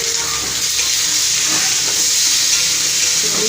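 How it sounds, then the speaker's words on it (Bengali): Pre-fried prawns tossed into a spiced masala sizzle steadily in a pan, with a constant hiss and occasional stirring scrapes, near and fairly loud, no talking. "চিংড়ি মাছ দিয়ে সামান্য একটুখানি কষিয়ে নেব"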